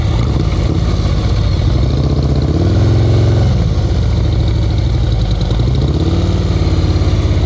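A motorcycle engine during an advanced slow-speed riding practice in Maryland, with the rider working clutch and brake together: a loud, continuous close rumble whose pitch dips and rises in gentle swells as the throttle is eased.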